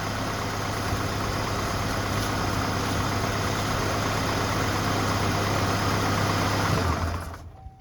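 A truck's engine idles with a steady low rumble, close and loud, then cuts off near the end and leaves near silence.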